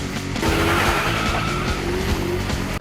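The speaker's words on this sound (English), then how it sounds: "Run up your engines!" Several car engines rev loudly while tires squeal and skid continuously, a dense, close roar of motorsport noise that cuts off abruptly at the end.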